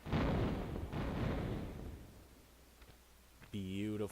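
Uzi gunfire in the Tomb Raider 1 video game, loud dense bursts of rapid shots for about two seconds, then fading to quieter background before a short musical tone at the end.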